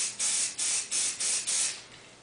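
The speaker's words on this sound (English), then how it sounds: "now we're going to lay down the earth brown here. Same technique. Make sure it's good. Just spray a bunch in there." A spray paint can hisses out earth-brown paint onto a golf club for a camouflage finish, in five short, loud bursts separated by brief pauses, the last one trailing off.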